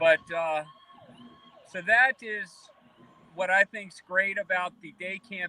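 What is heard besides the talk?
sirens passing outside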